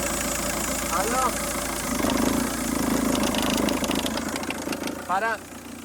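A car engine idles with an odd internal noise, steady and close, while people talk over it.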